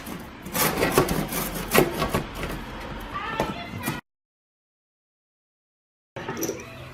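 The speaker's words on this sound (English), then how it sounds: "I'm just going to cut this with a saw" A saw cutting through a spalted silky oak hollow form, with rough rhythmic rasping strokes for several seconds, a gap of silence, then brief scraping again.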